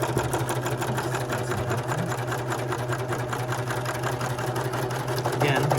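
A serger whirs at a steady, fast, close pace as it stitches along a fabric edge and its blade trims off small fringes. The machine runs continuously under a faint hum.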